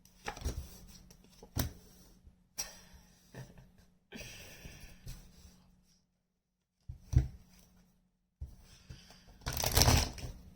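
A deck of tarot cards is shuffled up close in several separate bursts of riffling and soft slapping, with short pauses between them and no voices.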